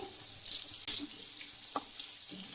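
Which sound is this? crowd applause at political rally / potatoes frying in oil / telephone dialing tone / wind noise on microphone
potatoes frying in oil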